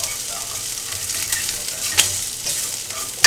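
A couple of garlic cloves hit a hot pan and sizzle steadily, a close, even frying hiss broken by a few sharp clicks of a utensil against the pan.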